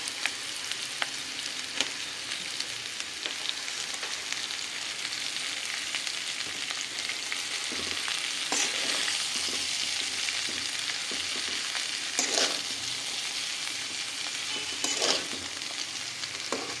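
Water spinach fries in a pan with a constant bright sizzle, punctuated by scraping stirs and clinks of a spatula at irregular moments.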